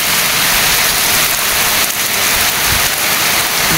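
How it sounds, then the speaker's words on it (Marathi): Heavy rain pours down steadily in a village, a loud, dense, unbroken hiss of water drumming on surfaces, close and continuous, with no voices. "जोरदार पाऊस सुरू झाला आमच्याकडे आता."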